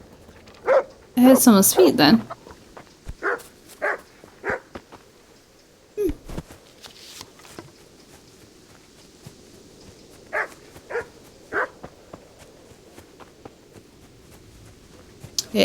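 A dog in the medieval game Kingdom Come: Deliverance barks in a loud close burst, then gives scattered shorter barks and yips across the scene, with someone talking over and between them.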